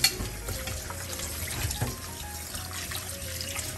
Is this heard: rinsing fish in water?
yes